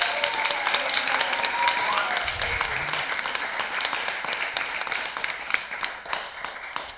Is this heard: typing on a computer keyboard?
no